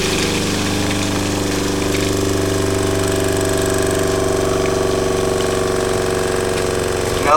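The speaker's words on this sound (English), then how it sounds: "there goes the pump." A 12-volt fresh water pump in a campervan plumbing setup running steadily, a loud, even mechanical drone and hum holding for several seconds with a brief rattle at the end.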